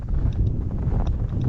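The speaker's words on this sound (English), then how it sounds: "you can probably hear, quite a wind blowing here" Strong winter wind gusting across an open farm early in the morning, a steady rough rumble of buffeting air with no talk.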